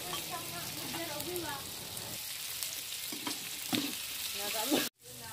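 Red chili, tomato and spices stir-fried in a pan for water spinach, a busy sizzle with scraping stirs, then a sudden brief drop to near silence at the end.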